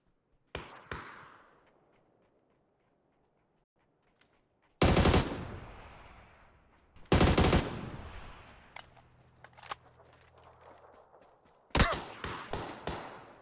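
Gunfire in a first-person shooter game, a few sharp shots followed by silence, then loud bursts of automatic fire from a bot shooting through trees, with scattered shots and impacts after.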